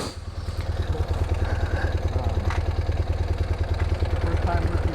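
A BMW GS motorcycle idles with a steady low throb and even rhythmic pulsing, close and fairly loud, with a faint voice in the background.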